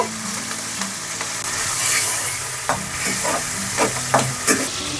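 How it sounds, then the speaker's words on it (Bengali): Turmeric- and salt-coated prawns fry in hot oil in a pan for a Bengali jackfruit and prawn dish, with a steady close sizzle broken by clattering stirs and scrapes of a spatula. "চিংড়ি মাছটা ভেজে নিলাম"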